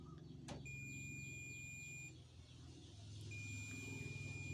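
A steady, high-pitched electronic beep from a multimeter continuity tester sounds twice as its probes touch, each lasting over a second with a brief gap between them, over a low background hum.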